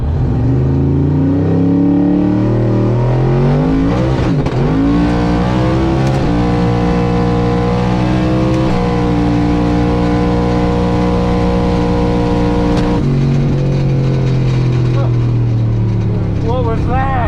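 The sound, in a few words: LSXcalade launching hard on 25 PSI boost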